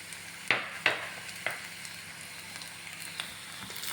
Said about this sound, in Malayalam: നമുക്കപ്പോൾ പച്ചമുളകും കറിവേപ്പില ഇടാം.